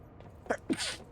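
A single short sneeze, close and moderately loud, with a quick intake of breath followed by a sharp breathy burst.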